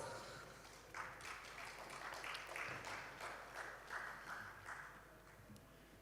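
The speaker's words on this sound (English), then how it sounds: "Let's give him a big round of applause." Audience at a startup summit in Kerala applauding a company CEO as he is welcomed, a moderate, steady patter of many hands clapping that swells slightly midway and then eases off.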